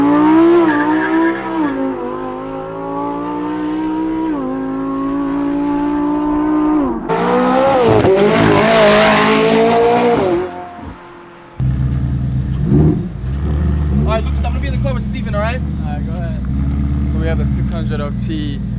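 A Lamborghini Huracan STO and McLaren 600LT drag racing rev and roar up through rising pitches, a high-speed burst peaking midway, then a lower rumble with voices talking over it.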